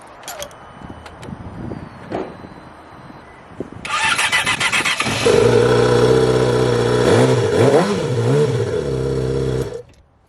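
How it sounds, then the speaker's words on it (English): A repaired Yamaha R6 motorcycle engine cranks and catches, then settles into a loud, close idle with a few rising revs before cutting off. "I'm gonna try to start it up and see how it sounds"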